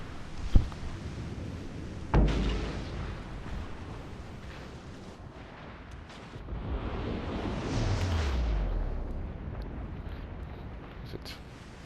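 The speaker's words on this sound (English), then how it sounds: "now them secondary guns will go after it. Some of them torpedoes are going to hit" Naval gunfire and torpedo explosions in the World of Warships: Legends video game, featuring the cruiser Alaska. Sharp booming hits land early, followed by rumbling blasts and a longer roaring surge, all under soft background noise.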